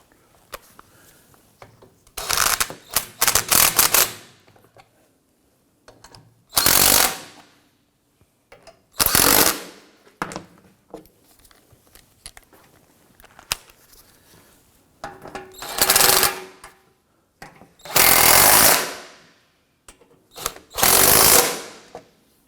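A power tool tightens starter bolts on a Volvo XC90, firing in about seven loud, close bursts of rapid ratcheting, each a second or two long, separated by quiet pauses.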